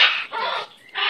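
A pet bird, a male called a handsome baby by its owner, gives loud, harsh squawks at close range in two bursts separated by a brief pause, with no talking over them.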